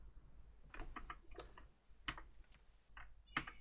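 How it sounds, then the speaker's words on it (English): Someone tapping on a desk during a Return of the Obra Dinn session: a quiet, irregular series of light, close ticks and taps, no talking. "Sounds like someone tapping the desk."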